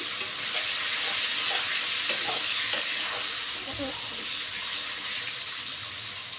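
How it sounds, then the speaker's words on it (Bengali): Potatoes sizzle steadily in a hot pan, a continuous loud hiss broken by a few soft scrapes of stirring. "আলুটা একটু ভাজা ভাজা হলে এর মধ্যে মশলা পড়বে"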